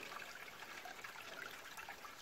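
Water trickling in a small mountain stream in a mild winter, a steady, even hiss and babble that continues without a break.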